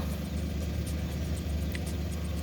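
A DA17 car's engine runs with a steady, close mid-pitched hum and an even drone, with no voices over it.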